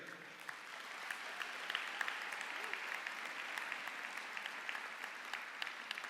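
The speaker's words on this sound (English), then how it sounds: "give yourself a hand and a cheer." An audience claps steadily in a sustained round of applause, a dense, even patter heard from a moderate distance.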